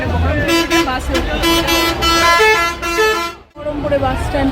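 At the Baharampur bus stand, buses idle and rumble while several vehicle horns honk in repeated loud toots, with people talking over the traffic noise.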